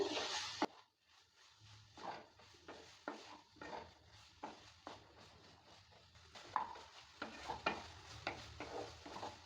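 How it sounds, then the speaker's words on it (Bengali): A utensil scrapes and stirs grated paneer in a pan for paneer bhurji, with repeated quick strokes at an irregular rhythm and a faint sizzle underneath. "পনিরটা দেওয়ার পর ভালো করে নেড়ে চেড়ে নিতে হবে"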